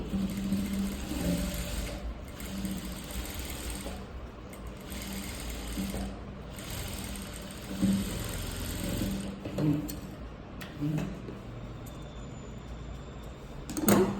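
A sewing machine runs straight stitches along a blouse lining, whirring in steady bursts with brief pauses between runs, close and clear with no talk.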